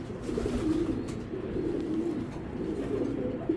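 Tiger grizzle racing pigeons, a cock and a hen, coo in low, steady rumbling phrases close by, with continuous overlapping calls throughout and no talking.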